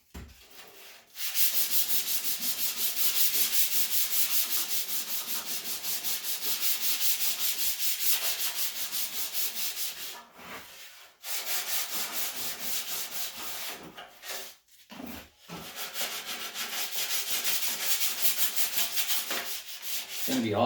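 Steady abrasive sanding on the dashboard of a 1978 Ford F100 truck, a continuous loud rasping hiss in long strokes with brief pauses near the middle and toward the end.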